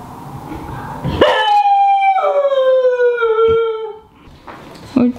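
A dog howls at passing sirens in long, drawn-out wavering notes, two sustained howls close by, ending with a short yip.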